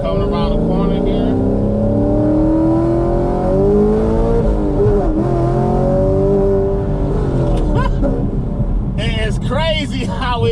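Car on Nitto 555R2 drag radial tires pulling hard in first gear around a corner, the engine note rising steadily and loud throughout, with a brief jerk near the end.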